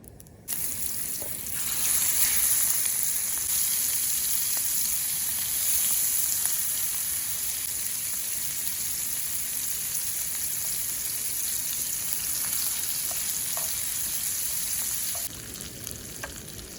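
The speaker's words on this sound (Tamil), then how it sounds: "அதை ராலை எடுத்து நல்லா பொறிச்சு எடுத்துருவோம்" Prawns frying in butter for a butter prawn roast give a steady, close sizzle that holds for most of the stretch with no talk over it, easing off slightly near the end.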